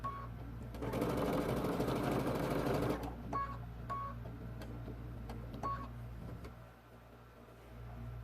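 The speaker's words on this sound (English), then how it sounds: "Come across and put a locking stitch in." A sewing machine stitches through a jacket while a double welt pocket is sewn in: a steady whirring run of about two seconds, then a few short start-stop bursts of stitching for a locking stitch, close and clear.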